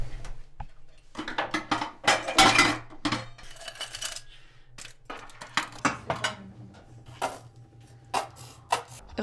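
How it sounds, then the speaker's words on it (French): Cutlery and plates handled and set down, a close run of clinks, clatters and ceramic knocks in irregular bursts with quiet pauses between, no talking. "tu sors des couverts, des assiettes, puis tu les salis"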